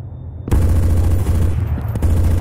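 Gunfire in Counter-Strike: Source, a dense burst of rapid automatic shots erupting after a brief quiet moment and continuing loudly to the end.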